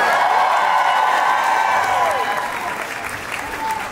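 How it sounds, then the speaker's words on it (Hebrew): Loud, close applause from a crowd at an evening stage show, with some whoops and cheering mixed in and a voice over it, continuing steadily throughout. "אני רוצה כל הערב הזה כפיים"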